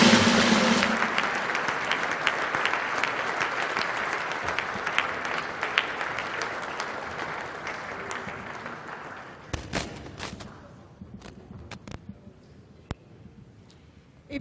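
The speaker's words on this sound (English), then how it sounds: "we can all be upstanding and give him a thorough round of applause for his commitment and" A standing audience at a 2017 development finance forum applauds the departing President, starting as a loud, dense wave of clapping that slowly thins out and fades to scattered individual claps by the end.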